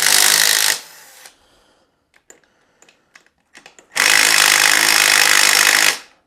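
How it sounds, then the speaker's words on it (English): Cam cap bolts being loosened on a Honda CRF250R engine during a valve adjustment, with two loud bursts from a power tool at the start and end and faint clicks and taps of parts being handled in between. "now with the cam chain loose, we can take the cam cap bolts off"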